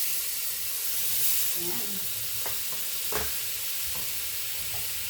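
Butter sizzles in a pan with garlic sautéing, a steady frying hiss with a few scraping stirs, while a voice speaks briefly and softly.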